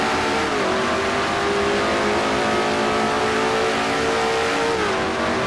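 A race car engine in an IROC club race at Watkins Glen, screaming at high revs as it works toward a shift: a loud, continuous close-up roar with brief pitch drops at gear changes.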